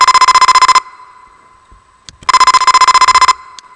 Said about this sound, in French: notre circuit qui a eu la plus grande puissance et aussi la plus forte sonnerie qu'on peut